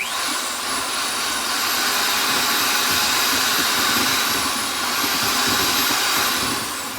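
An electric mixer whirs steadily while blending pottery glaze, a loud continuous motor drone with a high whine that holds for several seconds without talk.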